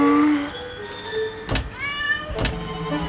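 Two clear, drawn-out cartoon cat meows sound about a second apart in the Roblox obby game Escape Crazy Cat Lady, loud and up front over soft background game music.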